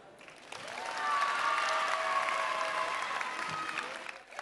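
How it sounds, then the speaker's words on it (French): Audience applause at a youth pitch session of the ChangeNOW 2024 event, building to a steady clatter of clapping that fades near the end, with faint voices and whistles mixed in. "on peut les applaudir encore bien fort"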